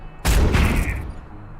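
A weapon fires in the turn-based video game Into the Breach: a single sudden booming blast with a crackling burst that rings on briefly, then fades into quiet.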